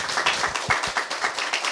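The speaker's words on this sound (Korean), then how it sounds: "네, 여러분 큰 박수 한번 부탁드리겠습니다." Applause from the crowd at a youth talk-concert with a Buddhist monk: a brief burst of mixed clapping with soft, uneven pulses, moderately loud and fairly close.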